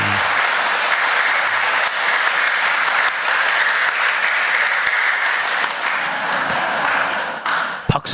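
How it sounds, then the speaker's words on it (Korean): A church congregation applauds at an Easter Vigil Mass, a steady, dense wash of many hands clapping that holds for several seconds at even loudness, with no talking over it, before thinning out into a few scattered claps at the end. "박수를 왜 치는지 모르겠지만"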